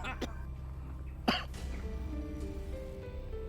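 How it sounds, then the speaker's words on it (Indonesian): A man coughs in short, harsh bursts, one quick cough followed by a louder throat-clearing cough, with a faint voice and room sounds around them. "Ini Bu, suami saya itu batuk-batuk."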